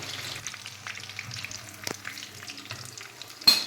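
Chicken 65 fries in oil with a soft, steady sizzle and scattered small pops, fairly quiet and close, ending with a sharper clatter.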